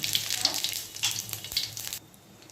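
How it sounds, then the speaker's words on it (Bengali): A slit dried red chilli and whole cumin seeds hit hot oil, giving a close, crackling sizzle with sharp pops and spatters that drops off abruptly near the end. "একটা শুকনো লঙ্কাকে চিড়ে দিয়ে নিলাম তেলে, আর একটু গোটা জিরে দিলাম"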